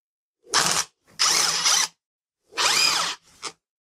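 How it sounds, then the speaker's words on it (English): A Phillips screwdriver works a screw out of motorbike switch gear on the handlebar, giving three close bursts of grinding, ratcheting turns with short pauses between and a brief final click. "this is going to be a Phillips screwdriver"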